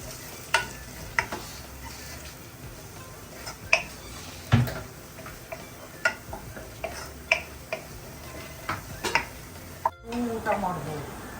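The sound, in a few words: spices frying in a pan for crab sukka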